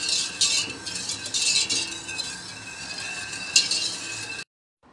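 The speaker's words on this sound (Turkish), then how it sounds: "Şöyle bir karıştırarak şekerimizi eritelim." A spoon scrapes and clinks around a metal pot of sugar on the stove in a few brisk bursts, close and fairly loud, then stops abruptly.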